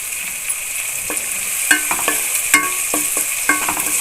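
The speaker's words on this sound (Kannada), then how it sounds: "ಈಗ ಹಾಗಲಕಾಯಿಲಿ ಫ್ರೈ ಆಗ್ತಾ ಇದೆ" Bitter gourd frying in oil in a pan, a constant bright sizzle broken by several sharp scrapes and clinks of a stirring spoon, close up and without speech.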